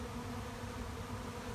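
A swarm of honeybees buzzes around an apple tree in October. The buzz is dense and steady, fills the whole short stretch and comes from many insects close by.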